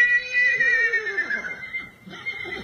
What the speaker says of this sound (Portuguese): Olha, o cavalo tá indo pra um lado e pro outro.